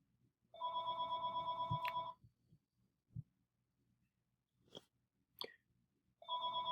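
A telephone rings indoors with a bright, buzzing bell tone. One burst lasts about a second and a half, followed by quiet with a few faint knocks, and a second ring starts at the very end.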